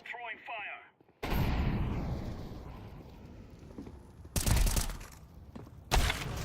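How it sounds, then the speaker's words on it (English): Explosive bursts from a grenade and a molotov thrown in Counter-Strike 2, a long loud blast wash followed by two more sharp, heavy bangs, after a brief stretch of voice. "Throwing a grenade. Throwing fire."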